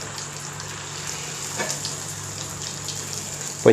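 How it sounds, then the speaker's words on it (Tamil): Chettinadu white paniyaram batter poured into hot oil, giving a soft continuous frying sizzle with a slight swell as it goes in and a sharp clink at the very end. "பனியாரம் ஊற்ற போகிறோம். பார்த்து எண்ணெய் தெரிக்காமல் ஊற்றிடுங்க."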